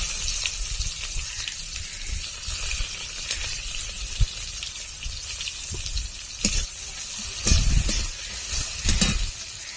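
Chopped onion fried in oil with whole dried red chillies and cumin for a pangas fish curry: a dense, steady frying hiss with bursts of louder spattering and stirring toward the end.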